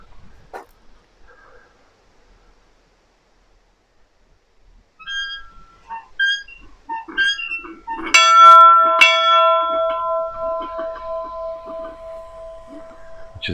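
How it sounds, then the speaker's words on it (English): An old church bell beside a church rings out loudly, a strong clang with a long, sustained hum that rings on and fades slowly, after quieter footsteps and faint outdoor sounds. "there's this really old bell here also."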